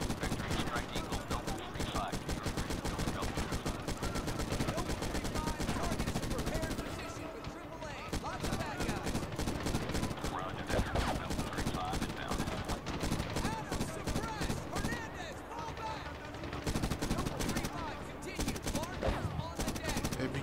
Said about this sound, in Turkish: Bence bu şarjördeki mermi F-15'ler girene kadar onu supres etmeye yeter